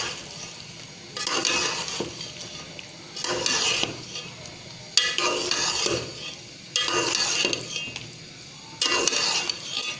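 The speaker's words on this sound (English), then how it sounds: "Now mix it." A spoon stirs and scrapes chili powder, cumin and allspice inside a pot in several bursts, with a soft sizzle of frying between the strokes.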